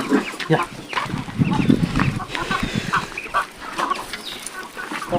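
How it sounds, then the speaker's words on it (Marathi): Several free-range country chickens on a poultry farm cluck and squawk in busy, overlapping bursts close by, with a rooster-like call mixed in. "तर सर्व कोंबडी सोडलेली आहे"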